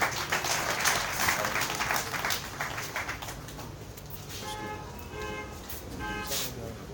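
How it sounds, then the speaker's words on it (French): Crowd applause at an opening ceremony address, steady clapping from many hands that gradually thins, with a few horn-like tones toward the end. "Sous vos applaudissements."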